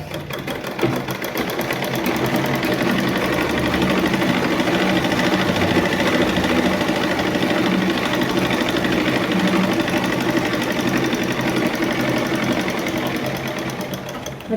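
Sewing machine running steadily while stitching and hemming a folded neck piece of a garment, a loud, continuous mechanical whir with a fast rattling rhythm that holds throughout without pause.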